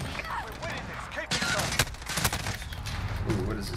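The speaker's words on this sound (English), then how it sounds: "Ooh, what is this, single fire?" Burst-fire gunshots in Modern Warfare crack out in scattered clusters amid dense game noise, with someone talking over the shooting.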